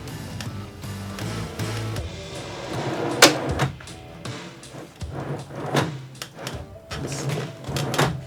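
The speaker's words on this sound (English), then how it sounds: "it is time for the inaugural top drawer test fit" A large, oversized workshop cabinet drawer slid in for a test fit, giving a run of wooden thunks, scrapes and knocks with one sharp bang partway through, close up, with no talking.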